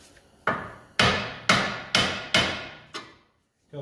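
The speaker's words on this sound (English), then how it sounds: "So I just like to smack the knuckle" Hammer blows on a steel steering knuckle of a VW MK4 during wheel bearing replacement: six sharp, ringing metallic strikes at an even half-second rhythm, loud and close, each decaying quickly, with no talking.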